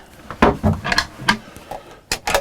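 Wooden cabin drawers on a Rustler 42 sailing yacht slide open and shut several times, a series of close, sharp knocks and rattles in uneven succession with no talk.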